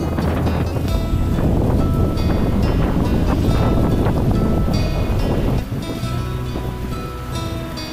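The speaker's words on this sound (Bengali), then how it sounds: "এই হাওয়ায় দাঁড়িয়ে থাকাও মুশকিল।" Strong cyclone Remal storm wind roars steadily and loudly near a broken railway gate, a dense, unbroken rush that eases slightly toward the end.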